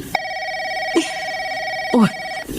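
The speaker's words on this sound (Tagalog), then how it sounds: "Nagre-ring yung telepono natin." A telephone bell rings in repeated steady bursts, close and fairly loud, in an indoor home scene, with brief voice-like sounds between the rings.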